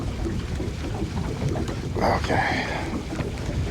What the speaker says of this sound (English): the wind is really gunning down this chute right now